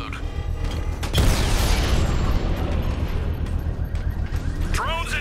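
A bomb device explodes in the video game Batman: Arkham Knight, a loud booming burst that swells into a long rumbling roar with mechanical creaks and debris noise.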